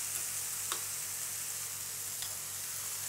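Oats stirred in a pot while apples cook down on the stove, a soft steady sizzle with a couple of faint scraping strokes, quiet and continuous with no voices.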